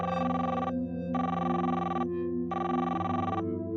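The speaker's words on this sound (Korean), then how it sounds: "그리고 일주일 후 어느 날 새벽 치에미의 전 남자친구 집에 전화가 한 통 걸려옵니다." Telephone bell ringing in three long bursts with short gaps between them, loud and close, with a steady low hum underneath.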